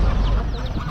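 Country chickens cluck briefly amid the din of a busy weekend poultry market in Chakan, a short close burst over dense background noise.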